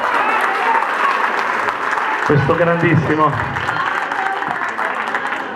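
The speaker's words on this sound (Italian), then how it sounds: "E l'applauso si ripete per" Audience at a live show applauds steadily throughout, a dense sustained clapping wash, with someone speaking over it in the middle.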